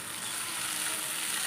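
Dry fish and brinjal fry in a pan with a soft, steady sizzle. The crackling hiss stays faint and continuous, with no voices over it.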